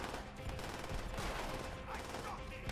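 Dense, continuous gunfire in Call of Duty: World at War co-op, rapid overlapping automatic shots and explosions filling the whole stretch at loud, constant intensity.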